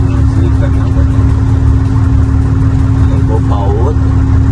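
A tractor-trailer truck's engine keeps idling in a steady, loud, close drone while someone talks over it.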